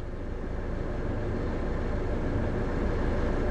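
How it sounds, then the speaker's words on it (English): A steady low van engine rumble drones on without change, the motor idling close up to power an inverter, with no voices. "I've got the engine running just for the inverter at the moment."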